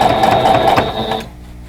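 A sewing machine runs a steady quarter-inch seam through quilt block fabric, its close, even motor whir holding for over a second before stopping abruptly.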